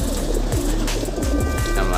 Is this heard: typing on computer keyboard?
no